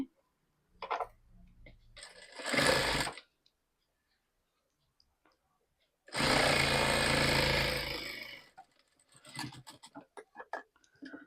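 A sewing machine stitching a hook strip onto a garment: two loud bursts of rapid mechanical whirring, the second longer, separated by quiet, with light clicks and handling noises around them.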